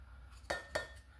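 A knife chops fresh mint leaves on a cutting board: two close, soft thuds about a quarter second apart in a quiet kitchen.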